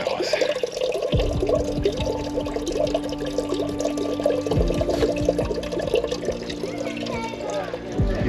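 Water flows out of a fountain and splashes steadily and fairly loudly, a continuous rushing pour with no voices.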